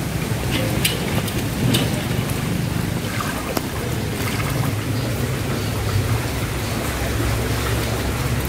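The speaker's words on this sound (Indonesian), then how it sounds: "Hampir jam 8 dan hujan ya mulai reda sih" Heavy, steady rain pours down during a flood in Makassar, a dense continuous roar with occasional thunder rumbling underneath.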